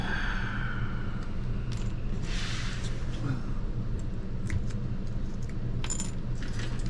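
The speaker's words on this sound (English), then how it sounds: "I normally just cut the wire off and drop it into the 55" A small metal router part drops into a 55-gallon drum, giving several light metallic clinks and rattles over a low background rumble.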